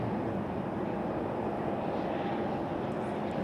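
A Frontier Airlines airliner heading to Detroit from Raleigh-Durham airport, a steady distant jet roar filling the air without a break and no voices.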